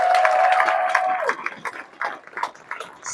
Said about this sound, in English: Can you give them a huge round of applause as well?